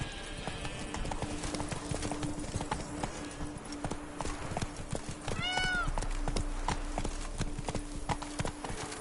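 Roach, Geralt's horse in The Witcher 3: Wild Hunt, runs with rapid, crisp hoofbeats in a steady galloping rhythm, close and clear. A brief whinny breaks in midway, over a low ambient hum.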